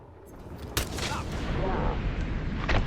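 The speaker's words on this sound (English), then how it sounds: "we're just going to shoot the coconuts" Gunfire aimed at coconuts in Hitman 2 on Haven Island, a sharp shot followed by rumbling, booming impacts and a second shot near the end, fairly quiet overall.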